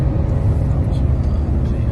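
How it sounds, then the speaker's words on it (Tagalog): Steady low rumble of highway traffic on a Las Vegas highway, heard continuously from inside a moving vehicle, loud and droning with no distinct passes. "Ito na yung sitwasyon ng highway ng Las Vegas"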